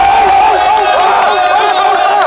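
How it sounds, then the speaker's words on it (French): A crowd at a prison competition event between inmates and guards cheers loudly, with shouting voices, whistling tones and bustle blended into a dense, close roar. "On applaudit."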